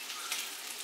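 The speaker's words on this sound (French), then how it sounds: "j'en ai fait cuire la saucisse." Sausage sizzles faintly in a frying pan, a soft continuous crackle of fat with a few brighter pops and no voices.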